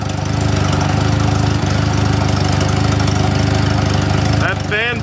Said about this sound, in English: that tractor sounds because of that giant fucking gap between the manifold and the turbo